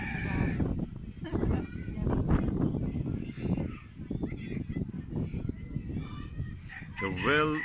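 Chickens on a smallholding, kept alongside a horse, cluck and crow while people talk over them close by, with a brief crow-like call rising near the end.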